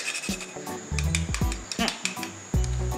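Nutmeg grated over a cream-based Jamaican brandy Christmas cocktail, giving a series of soft, close rasping strokes with light clinks of glassware.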